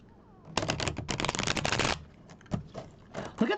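A deck of cards being shuffled during an evening card reading: a dense burst of riffling clicks for about a second and a half, then a few shorter, softer shuffles and taps close to the mic.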